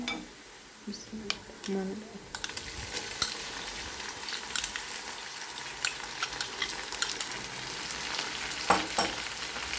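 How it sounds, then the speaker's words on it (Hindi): Ginger garlic paste frying with golden-brown onions in a pan for a desi aloo gosht curry, a steady loud sizzle broken by scraping and stirring clicks from a utensil. "इसे तकरीबन 1 मिनट के लिए हम भूनेंगे।"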